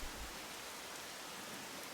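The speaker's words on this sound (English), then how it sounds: "All that remained was the sound of the rain." Rain falling in the video game Rain: a steady, soft, even hiss of rainfall with no other sounds, faint and continuous.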